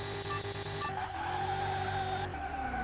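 A Koenigsegg supercar races in the Car Mechanic Simulator video game, its engine holding a loud, steady high-pitched whine with tire skids and squeals for a few seconds, no talking.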